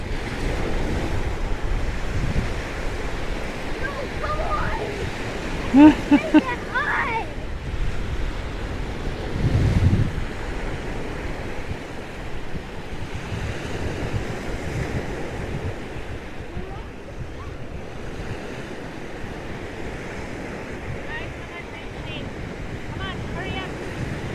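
Surf washes in at a North Sea beach in England, with ocean waves rolling continuously under strong wind buffeting the microphone and a few brief faint sounds in between.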